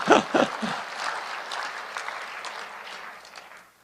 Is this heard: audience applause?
yes